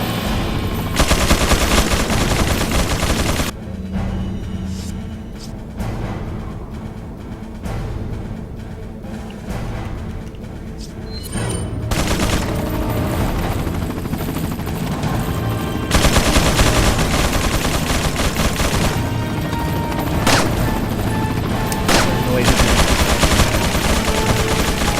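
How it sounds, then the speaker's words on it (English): Gunfire in Resident Evil 4 on Professional mode, loud and dense, with rapid bursts and sustained volleys running through most of the stretch and only a brief quieter gap in the middle. "One headshot, one shot."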